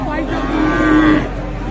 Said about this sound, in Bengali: এই পাশে দেখছেন এগুলো ষাঁড় বাচ্চা, তবে শুরুতে একটা শাহিওয়াল ষাঁড় বাচ্চা রয়েছে।